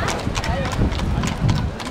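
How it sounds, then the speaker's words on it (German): Horses clip-clop with steady, repeated hoof strikes close by at a rally in Hamburg, under a constant wash of voices and crowd noise; any neighing is not clearly distinct. "Werden die Pferde wahnsinnig."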